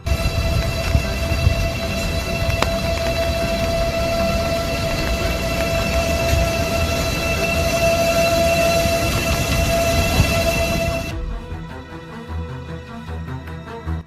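A train running, with a steady loud rumble and rolling clatter and a long sustained horn-like tone held over it, until the noise drops abruptly near the end to a quieter hum.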